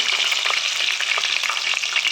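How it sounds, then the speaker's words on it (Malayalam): Close, loud frying of garlic, mustard seeds and curry leaves in oil, a dense crackling sizzle with rapid little pops throughout. "ഈ തിളച്ച എണ്ണയായിരുന്നു നമ്മൾ വെളുത്തുള്ളിയും കടുകും കരിവേപ്പിലയും നമ്മളൊന്ന് വഴറ്റിയിട്ടുണ്ട്"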